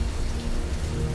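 Steady rain falling on a surface, a dense, continuous hiss of drops with a low rumbling undertone, loud and close with no voices.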